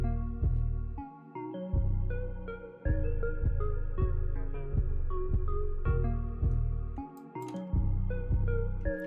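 Deep, booming 808 bass hits drive a trap beat built in FL Studio, repeating in a steady pattern under a melodic loop with a few brief gaps between phrases, loud and close.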